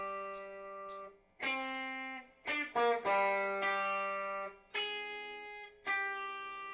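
An electric rock guitar plays a short melody of sustained, slightly distorted notes, moving through octaves and arpeggiated tones with brief pauses between phrases, close and clear without any talking.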